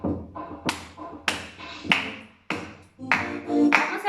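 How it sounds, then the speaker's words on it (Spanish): About half a dozen sharp, separate hand claps ring out over a children's song with tonal music, each one a crisp percussive strike with a short decay and irregular spacing. "Ahora vamos a aplaudir todos"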